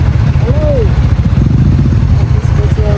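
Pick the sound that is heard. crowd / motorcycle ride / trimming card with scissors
motorcycle ride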